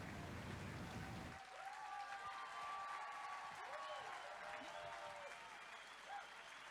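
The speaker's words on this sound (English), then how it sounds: "They're getting a standing applause, guys." Sustained applause from a seminar audience gives a standing ovation to three scientists. Steady, dense clapping carries through the whole stretch, with voices and tonal calls riding on top.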